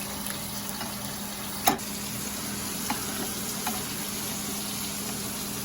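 Chicken cutlets frying in a pan give a steady, even sizzle throughout, with a few brief clicks and one sharper clack near the middle.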